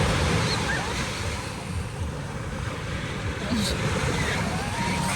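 Strong wind buffets the microphone over a constant roar of crashing surf at a beach in Zambales, loud and continuous throughout.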